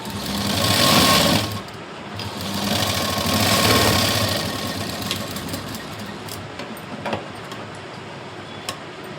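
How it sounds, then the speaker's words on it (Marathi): A sewing machine runs close and loud, stitching a blouse seam with a steady mechanical whir that surges in two long bursts, then continues more softly with faint ticks. "बरोबर अर्धा इंच मार्जिन ठेवूनच शिलाई द्यायची"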